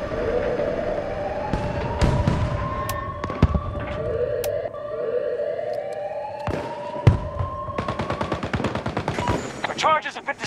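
Gunfire and an explosive detonation in the video game Battlefield 2042, sharp bangs and bursts of rapid automatic fire over a steady droning tone, with a fast rattling volley near the end.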